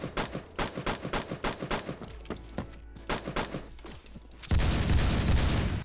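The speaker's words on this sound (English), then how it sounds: "it's kind of sick because it can shoot very," A G3 rifle in Roblox Phantom Forces fires in quick bursts, sharp evenly spaced shots with short pauses between strings, ending in a louder sustained roar of rapid fire.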